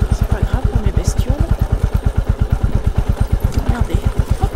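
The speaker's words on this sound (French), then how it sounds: "Elle a un ralenti qui est bien. En plus cette moto." Motorcycle engine idling with a steady, rapid low thump of even firing pulses, close and loud throughout, with a light mechanical clatter on top.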